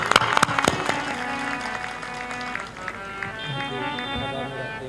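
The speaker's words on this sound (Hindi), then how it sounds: "ताली।" An audience at a spiritual satsang discourse breaks into a brief burst of loud clapping, which quickly fades as a sustained melodic sound, likely music or chanting, takes over.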